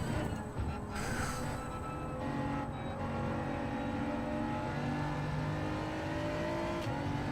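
A race car engine in the Gran Turismo 7 video game drones and revs continuously at a loud, steady level, with pitch rising gradually through gear changes.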